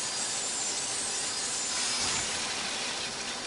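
A saw in Limbo gives off a steady, dense rasping grind that holds at a constant loud level throughout, with no voices over it.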